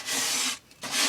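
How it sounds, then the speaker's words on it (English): Fingers rub paste into wood furniture with a harsh, close scraping rasp, two bursts of back-and-forth friction separated by a short pause. "I'm sorry for the annoying scraping sound, I'm just gonna use my fingers here and just rub that on."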